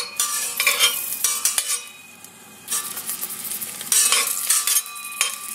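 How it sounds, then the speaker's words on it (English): Garlic and ginger sizzle as they fry in hot oil for a Chinese mushroom chicken dish, a steady close crackle with bursts of stirring and utensil clatter against the pan, no voices. "put your garlic and ginger. And just fry it off a little bit"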